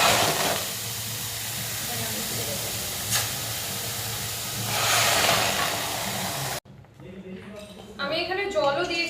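Water and white cumin sizzle in a hot, oil-free kadai, giving a steady hiss that swells in places for about six seconds. The sizzle then cuts off abruptly and a voice starts talking.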